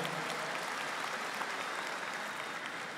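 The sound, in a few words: audience applause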